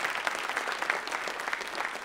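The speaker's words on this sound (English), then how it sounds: "You clap at that." An audience at a school writers' week event applauds, a steady wash of many hands clapping at moderate volume for about two seconds with a faint voice under it.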